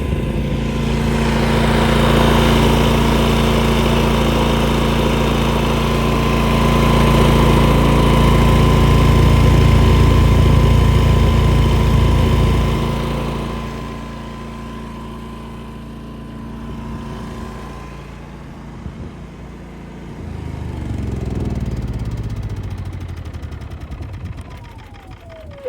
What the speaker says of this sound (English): So if you listen now, it's a happy generator.